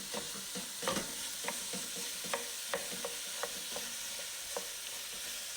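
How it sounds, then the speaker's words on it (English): Ground beef browning in a pan, quiet sizzling with soft intermittent scrapes and taps of a spatula stirring the meat, close but low in level, no speech. "As you can see, the ground beef has changed color and it's browned."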